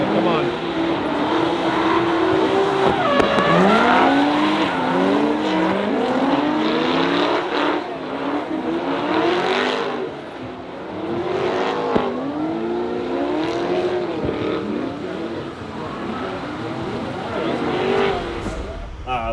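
Corvette drift car on a chase run, engine revving and bouncing through repeated rises and falls as it slides through transitions, loud and continuous with occasional voices over it.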